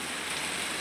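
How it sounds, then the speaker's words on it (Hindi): Heavy monsoon rain pours outdoors in a steady, dense hiss that holds evenly throughout, with no voices over it. "तो इतनी खतरनाक बारिश आ रही है"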